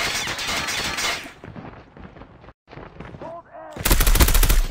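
Gunfire in a shooter video game comes as loud bursts of rapid automatic fire at the start and again at the end, with quieter game sounds and a brief silent gap between them.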